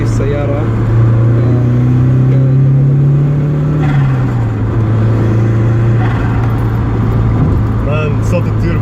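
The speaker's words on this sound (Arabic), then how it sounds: "صوت التيربو شيء روعه والله شيء روعه" A first-generation Mitsubishi Lancer Evolution runs with a steady, loud engine drone that climbs slightly in pitch before settling, its turbo adding a whooshing edge, while someone talks over it throughout.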